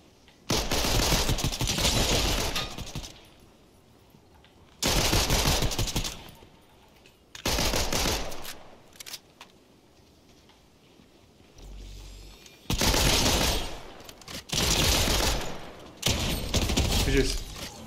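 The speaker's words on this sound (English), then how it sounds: "Pistol fire rate is intimidating." Bursts of rapid pistol gunfire in the Fortnite video game, five or six loud volleys of quick repeated shots separated by short quiet gaps, with faint background game sound between them.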